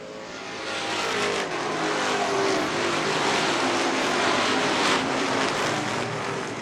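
Race cars circling a track, a loud sustained engine drone as a pack of cars passes by continuously at close to mid distance, with no talking.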